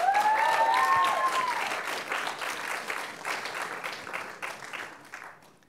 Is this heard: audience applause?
yes